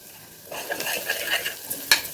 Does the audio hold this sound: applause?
no